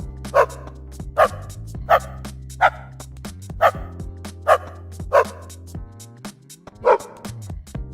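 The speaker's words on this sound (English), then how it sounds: "I now have a singing dog that I can play like a piano." Dog bark samples played as a keyboard instrument in Dr. Drum: about nine evenly spaced barks at shifting pitches over a sustained bass tone, like a simple melody.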